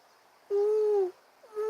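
Human voice imitating a dove cooing, one sustained soft hoot followed by the start of a second, close and alone.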